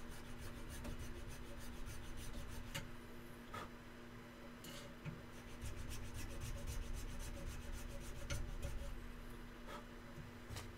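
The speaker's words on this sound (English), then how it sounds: "I can hear you and the filing process." A rasp files steadily with rough, repeated scraping strokes during a live build. It sounds faint against a low constant hum, with sharp ticks and knocks between strokes and no talking.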